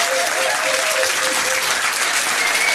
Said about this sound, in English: give them a round of applause for trying, though